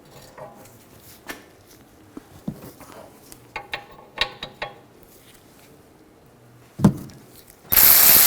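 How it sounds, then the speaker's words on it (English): An 18mm socket on a ratchet works loose the rear caliper bracket bolts on a 2009-2010 BMW 535i xDrive brake job, giving sparse close clicks and knocks, with a sharp metallic clunk and louder burst near the end. "Using an 18mm socket, we're going to take these two caliper bracket bolts out."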